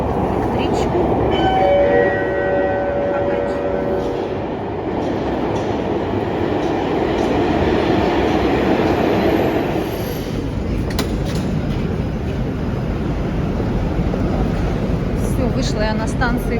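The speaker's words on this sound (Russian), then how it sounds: "Сейчас сяду в эту электричку." Suburban electric commuter train (elektrichka) riding near Moscow, a loud steady rumble of wheels and car noise throughout, with a faint tonal whine early on.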